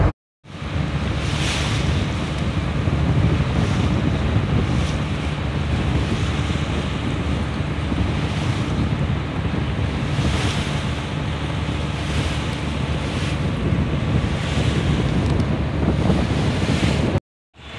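Ocean waves surge around a pool built out into the sea in Doha, a steady, loud wash of surf mixed with heavy wind rumble against the microphone, continuous for the whole stretch with no voices.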